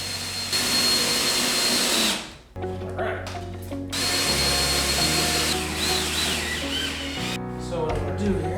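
A power drill driving Phillips screws into drywall: loud, close whirring bursts that start and stop several times, with brief quiet gaps between runs.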